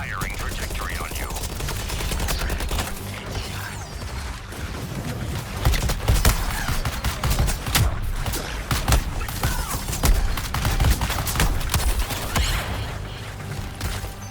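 Rapid gunfire and machine-gun bursts in the Suicide Squad: Kill the Justice League video game, loud and continuous with sharp repeated cracks and clanking mechanisms over game sound.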